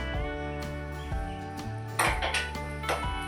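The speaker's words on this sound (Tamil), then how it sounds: "இப்போ பாத்திரம் வச்சுட்டேன்" Metallic clanks and rings as a metal cooking pot is set down on a stove close by, a couple of sharp knocks with ringing tones behind, no talking.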